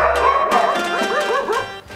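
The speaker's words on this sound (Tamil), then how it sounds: "தமிழ்நாட்டின் பாரம்பரிய நாயினம் கோம்பை." A Kombai, the traditional dog breed of Tamil Nadu, barks and yips loudly up close, giving a quick series of high, whining bow-wows that rise and fall in pitch.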